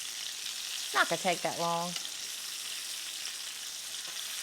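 Teriyaki chicken sizzles steadily on a hot cooking surface, a constant crackling hiss that runs throughout, with a brief spoken phrase heard over it.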